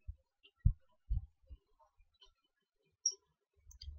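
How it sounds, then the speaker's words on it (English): Computer mouse clicks during software setup on a PC, a few close, quiet, sharp taps spread across a silent background. "double click on it"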